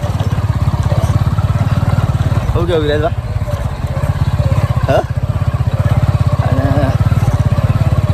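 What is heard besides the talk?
motorcycle riding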